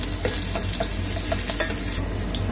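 Ginger and chili stir-fry in hot oil, producing a dense, even sizzle close by, punctuated by small pops and light stirring clicks throughout.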